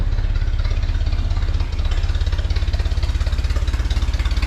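A 1929 Ford Model A engine idles steadily after a carburetor rebuild, a close, loud low-pitched putter with an even, rapid pulsing rhythm that runs the whole time with one slight dip partway through.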